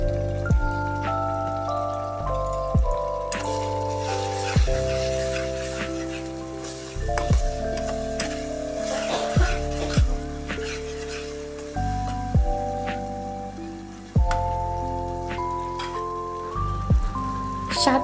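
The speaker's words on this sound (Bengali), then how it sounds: "এভাবে 2 থেকে 3 মিনিট বেজে নেব।" Ginger and garlic paste fries in a pan as part of a chicken bhuna. A steady, fairly faint sizzle and crackle runs beneath prominent background music.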